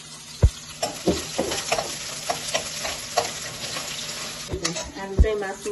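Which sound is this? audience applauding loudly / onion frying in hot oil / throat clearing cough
onion frying in hot oil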